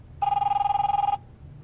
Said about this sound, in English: the phone starts ringing